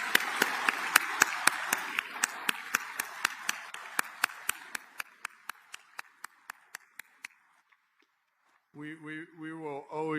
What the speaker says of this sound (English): please join me in a huge round of applause for Marcia.